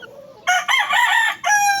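A gamecock rooster crows loudly and close, a harsh drawn-out cock-a-doodle call in two bursts after a brief quiet start.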